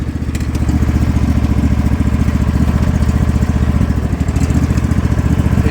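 A spare engine for a Craftsman Crusher lawn tractor runs steadily up close, a loud, even, rapidly pulsing putter that holds without change.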